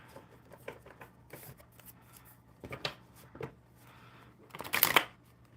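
Tarot cards being shuffled by hand during a live witchy card-reading session: several soft riffling bursts spread across the clip, ending in a louder, closer flurry of card flicks, with no talk.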